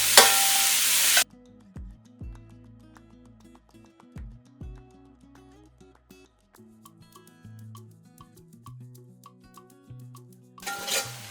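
Onions and tomatoes are sautéed in a pan, heard as quiet, intermittent scraping stirs and light metallic clinks with a low sizzle, framed by brief louder bursts of noise at the start and end.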